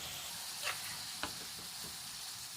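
Fried prawns sizzle softly in a pan for a Kerala-style prawn roast, a faint steady hiss broken by two or three light clinks and stirs.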